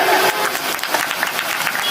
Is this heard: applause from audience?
yes